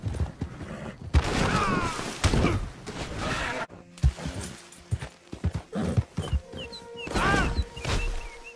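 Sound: horse galloping and neighing in the video game Red Dead Redemption 2

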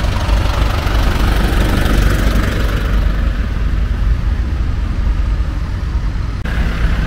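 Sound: large tractors driving around at a charity tractor rally

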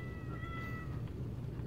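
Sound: cats meowing in a video game (Goat Simulator PayDay)

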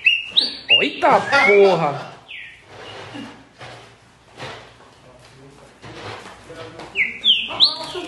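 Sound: rufous-bellied thrush (trinca-ferro) singing

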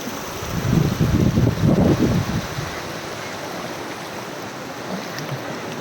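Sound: water gushing under Mathur aqueduct bridge

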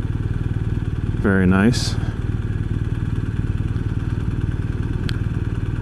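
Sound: BMW R 1250 RS motorcycle riding in low gear

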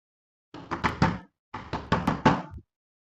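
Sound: knocking on a door

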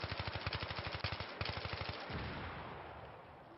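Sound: gunfire and bullet impacts in the video game Battlefield 3

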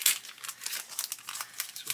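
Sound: plastic bag of model parts being opened

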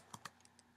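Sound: typing on a computer keyboard

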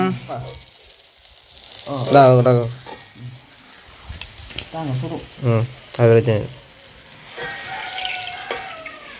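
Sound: rotti frying in oil

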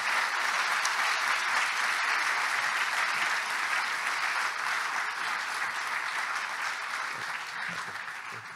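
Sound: audience applauding award recipient

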